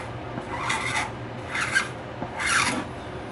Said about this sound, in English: you just take the scraper and clean up the edge